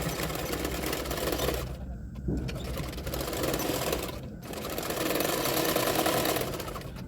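A sewing machine stitches a double katori lined blouse, running in steady continuous bursts with two short pauses, close and fairly loud, with no talk over it.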